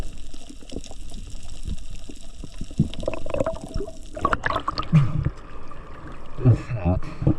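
Rough sea water surging and sloshing over shoreline rocks, a continuous churning wash with heavier splashes toward the end.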